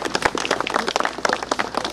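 A crowd claps at the ceremonial opening of an observation tower in Krynica. The applause is dense and continuous, with crisp individual hand claps standing out close by throughout.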